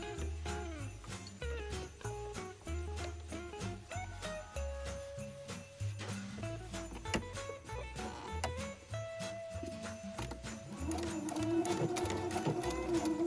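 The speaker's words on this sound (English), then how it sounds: "bring it over to the sewing machine, and Sylvia's going to show us what to do" A sewing machine stitching holiday napkins, its motor whirring in quick uneven bursts close by, with faint clicks and tinkles in between.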